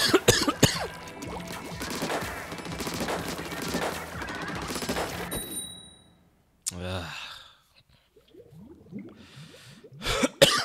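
A person coughs a few times, short harsh bursts breaking through loud Splatoon 3 game effects and music, then a quieter stretch with a last burst near the end.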